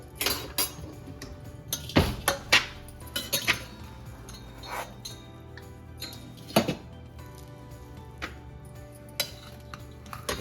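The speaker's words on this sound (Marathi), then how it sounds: "आता मी भात काढून घेते." Cooked, salted rice for curd rice is scooped from a pot with a metal spoon, giving scattered clinks and scrapes against the vessel, fairly quiet, with short pauses between strokes.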